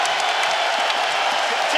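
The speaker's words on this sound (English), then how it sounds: "Wow, this crowd is crazy." Dense UFC arena crowd roaring and applauding as a steady, loud wash of cheering, continuous throughout with no distinct voices standing out.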